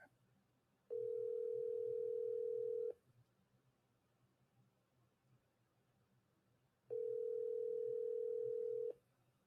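Ringback tone on an outgoing phone call: two steady, faint electronic ring bursts of about two seconds each, separated by a pause of roughly four seconds, over a quiet background.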